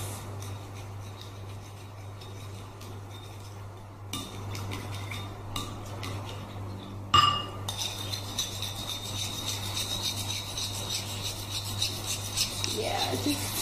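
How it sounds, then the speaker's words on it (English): Eggs whisked in a bowl with a fork or utensil to prepare breading for onion ring burgers, a continuous close clinking and scraping rhythm against the bowl over a steady background hum. "So first of all, let's just mix the eggs."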